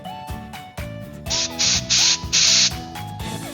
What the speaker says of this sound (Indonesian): dengan menggunakan air udara dari kompresor, kita semprot seperti ini